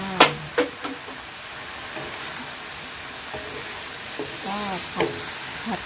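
Tofu tossed into a hot pan of stir-fried garlic chives with minced pork, giving a loud steady sizzle and frying hiss with a few clanks of a spatula against the pan and faint talk underneath.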